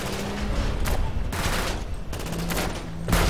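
Bursts of rapid gunfire in GTA 5 aimed at a huge minion, loud repeated volleys separated by short gaps, with faint voices underneath.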